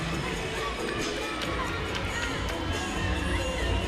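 A gymnastics arena crowd cheers and murmurs in a broad, continuous wash of voices with scattered shouts and claps, moderately distant and steady, with a commentator talking over it.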